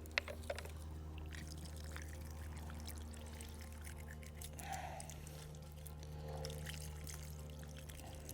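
Water pours and trickles quietly over a Seiko 5 Arabic Dial SNKP21J1 wristwatch as it is rinsed off, faint and steady beneath a low background hum.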